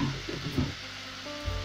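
Tomatoes hit a hot frying pan while mbuzi (goat meat) fry cooks, giving a steady, moderately quiet sizzle with a few soft stirring bumps.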